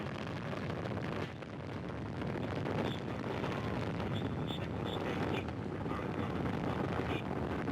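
Soyuz MS-01 rocket launching from Baikonur with four boosters and a single engine, a continuous broad rumbling roar with wind-like buffeting, loud and unbroken, faint voices under it.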